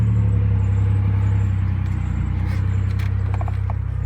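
A 2002 Oldsmobile Alero with a 3.4L V6 idles close by, its loud, steady low rumble running the whole time, while faint clicks and light mechanical ticks sit on top of it.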